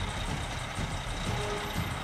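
Two Komatsu 930E mining dump trucks, each with a 2,700-horsepower diesel engine, are towed along a road from Perth heading north, giving a loud, steady road roar with a low rumble and a thin sustained whine.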